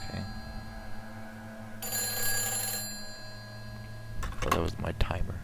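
Electronic telephone ring inside a Silent Hill 4 apartment, a bright burst lasting about a second over a steady low game drone, followed by a sharper clatter at the end.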